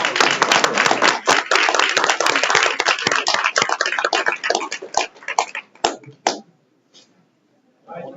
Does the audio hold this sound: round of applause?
yes